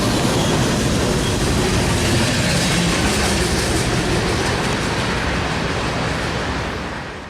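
Norfolk Southern freight manifest train rolling steadily past on the Fort Wayne Line, a loud, continuous rumble with rail clatter and wheel noise holding through most of the stretch before easing slightly at the end.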